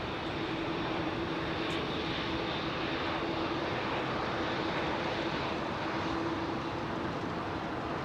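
An Emirates Airbus A380 in 50th anniversary livery departs Heathrow, its engines a continuous distant, rumbling roar holding steady throughout, with a faint tonal hum beneath and no talking.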